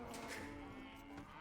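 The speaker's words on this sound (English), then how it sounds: "Two more cows." Cows mooing in Age of Empires 2, a single drawn-out low moo that holds for about a second over faint game background sound.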